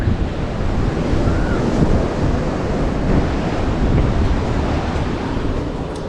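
Continuous roar of sea waves washing onto the beach at Gopalpur, loud and close, with wind buffeting the microphone.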